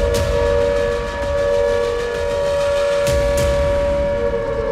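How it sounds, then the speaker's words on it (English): An air-raid siren in an Israeli city sounds a steady, sustained wail that holds loud and continuous throughout, with a slight dip and swell partway through. "sirens began to wail."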